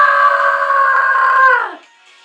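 A mobile phone rings with a steady electronic tone held for about a second and a half before it cuts off, loud and close, with no talking.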